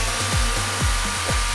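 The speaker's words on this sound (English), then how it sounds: "came back and gave it a sand all over" Power sanding of a wooden floating corner shelf, a steady close abrasive whir with rhythmic strokes repeating about every half second, heard alone.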